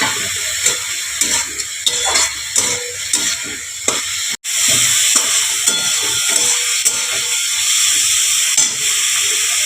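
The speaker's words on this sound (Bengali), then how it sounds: "এবারে আমি কাঁচা লঙ্কাগুলো দিয়ে দেবো।" Green chillies sizzling in hot oil make a loud, continuous close-up hiss and crackle, broken by frequent stirring knocks and one brief dropout midway.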